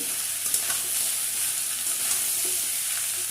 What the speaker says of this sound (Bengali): ভালো করে নেড়ে মিশিয়ে নিলাম